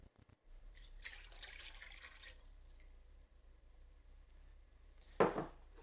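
Warm water pours into a container for sourdough focaccia dough in a home kitchen, a short splashing stream near the start followed by quiet, then a brief louder splash toward the end.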